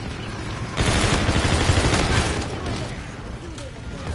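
Sustained gunfire in Call of Duty: Infinite Warfare multiplayer, a dense rattling burst loud over background game noise for a few seconds, with some heavier booms mixed in.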